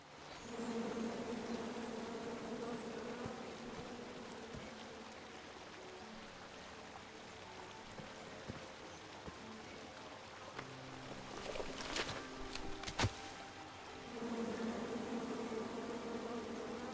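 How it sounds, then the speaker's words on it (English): Bees buzz in the King's Quest video game, a continuous droning swarm that swells and fades over a quiet outdoor ambience, with a few brief clattering knocks partway through. "Come at me, bees!"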